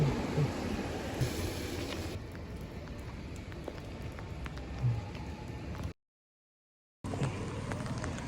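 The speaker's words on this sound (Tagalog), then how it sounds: "Ulan." Rain falls steadily with a continuous hiss and soft patter, broken by a brief complete silence before resuming.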